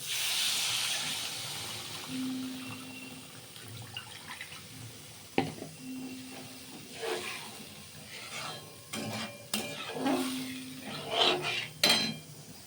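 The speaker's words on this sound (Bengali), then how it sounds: "এখন মাছের ঝোলটা ফুটছে" A pan of Bengali fish curry broth boils at a steady hiss and bubble, with occasional sharper clinks and scrapes of a utensil against the pan standing out from the simmer.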